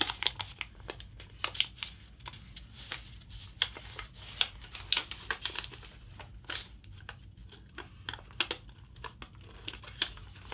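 A sheet of paper is folded and creased into a competition paper jet, producing close, irregular crinkles, sharp creasing snaps and soft rustles in quick bursts throughout, with no voices.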